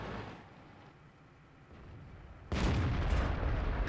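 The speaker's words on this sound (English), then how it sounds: "There's the artillery." Artillery fire in the tank game World of Tanks, heard as a sudden loud, deep booming blast that lingers as a dense rumble after a quieter stretch of distant battle noise.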